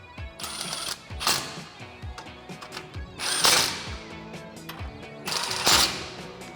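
Rapid ratcheting clicks and mechanical whirring from tightening bolts with an 8mm socket on a 2004-2022 Ford F150 front upper control arm install, close and continuous with a few louder bursts.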